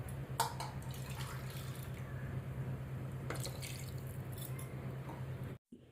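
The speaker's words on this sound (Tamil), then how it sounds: "இந்த ஒரு கப் அரிசிக்கு ஒன்றரை கப்பு தண்ணி ஊற்றிக்கிறேன்" Water trickles and drips steadily into a pot for cooking rice, with a faint low hum underneath, continuing for several seconds before cutting off.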